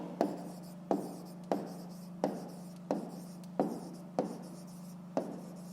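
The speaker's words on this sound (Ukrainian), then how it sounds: "Пишемо найбільше. натуральное число." Pen strokes tap and scratch across paper in a steady series of about eight short, crisp marks, quiet and close, over a constant low electrical hum.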